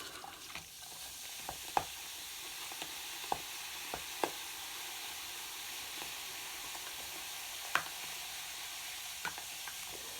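Torn paper pieces are stirred quickly in a container, giving a faint, steady rustling hiss with scattered soft ticks and taps at irregular moments, alone and with no voices.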